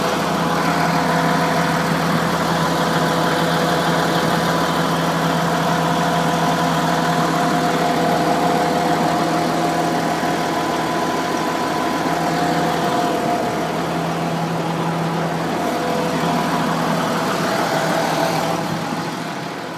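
A Case tracked machine's engine runs steadily at a constant idle, a loud close drone with a strong low hum and a slight mechanical vibration, easing off a little near the end.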